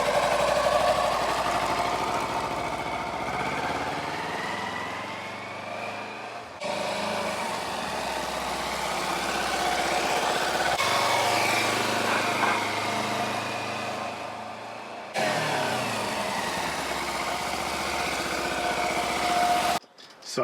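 A Kawasaki Versys-X 300 engine runs steadily nearby in a car park during a clutch test, a continuous buzzing hum with slight rises in revs and a few abrupt cuts.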